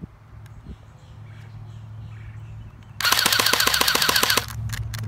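An HK MP7 airsoft gun fires a rapid, loud full-auto burst of about a second and a half, the sharp mechanical clatter standing out against a quiet, humming room.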